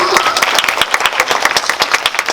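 A live audience at a fan event with actress Lee Young-ae breaks into close, lively applause, individual claps standing out sharply in a quick, uneven rhythm throughout.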